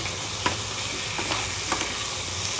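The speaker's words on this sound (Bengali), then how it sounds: "গোটা গোটা মিন্স ছাড়িয়ে দিয়েছে, সেটাকে আমি রান্না করছি কষিয়ে" Three whole crabs stir-fry in a hot pan, a continuous close sizzle broken by a few scraping stirs and clinks of the spatula, with no voices.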